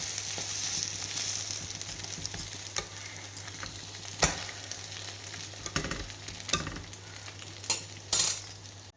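A bread omelette fries in a pan with a steady close sizzle, broken by occasional scrapes and clinks of a spatula against the metal, including a louder scrape near the end.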